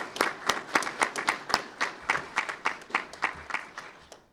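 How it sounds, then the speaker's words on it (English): Applause at a police award ceremony sounds like a small group clapping in a fairly regular rhythm, with distinct, separate claps close by, moderately loud and unaccompanied by talk. "So if you could join me in giving them a big round of applause"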